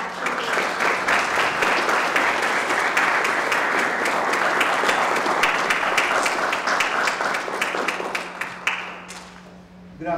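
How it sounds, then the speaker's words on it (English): A lecture audience gives a big hand of applause for a speaker, broad continuous clapping that stays loud and even before thinning out into a few scattered claps near the end. "So would you please say hello with a big hand applause to Dr. Neal."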